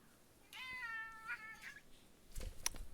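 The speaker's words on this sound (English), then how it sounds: "I have a very, very angry cat right now." An angry cat lets out a drawn, wavering meow close by, followed by a shorter cry and a few faint scuffling sounds in an otherwise quiet room.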